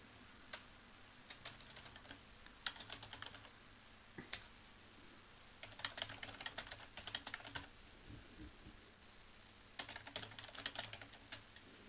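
Typing on a computer keyboard, bursts of quick, light key clicks separated by pauses, close and fairly quiet with no talk over it.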